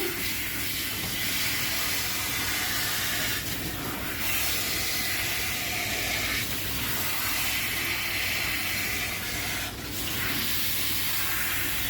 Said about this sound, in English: So just rinsing all that conditioner out.